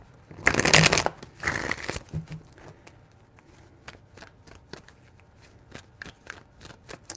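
Cards being shuffled in a couple of quick riffles, followed by a series of soft, sparse taps and flicks of cards being handled up close.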